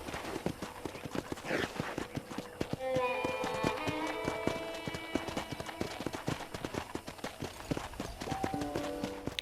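Horse hooves clip-clopping in Red Dead Redemption, a steady rapid patter of hoofbeats running throughout, with a whinny and a background music melody layered over the footfalls.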